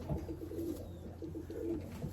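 A pigeon coos in a repeating, low, throaty rhythm against a steady background hum, the soft calls rising and falling several times.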